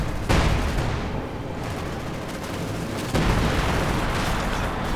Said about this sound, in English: Nasty artillery work there.